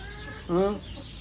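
A single short chicken cluck sounds close by, a brief throaty call against a quiet background hum.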